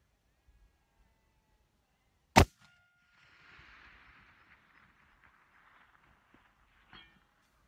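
A 338 Lapua Magnum rifle fires once, a sharp loud crack, followed by a faint, distant metallic ring as the bullet strikes a 50 centimetre steel disc at long range, with a softer knock near the end.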